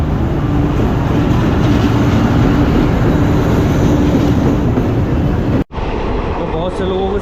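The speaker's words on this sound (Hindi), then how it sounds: "हमारी ट्रेन आ चुकी भाई बैंकॉक जाने के लिए" A train rolls into a station for the Phuket to Bangkok journey in Thailand, a loud continuous rumble close by that cuts off abruptly near the end.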